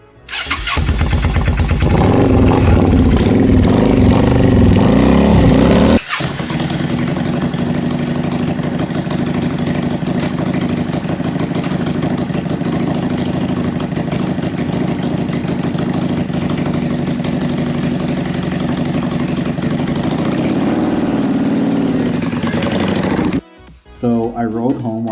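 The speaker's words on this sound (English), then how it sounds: "hopefully this time it's going to fire up no problem" A Yamaha V-Star motorcycle engine, bought cheap and being brought back to life after its hose was drained, cranks and catches, then settles into a loud, steady idle for about twenty seconds before cutting off.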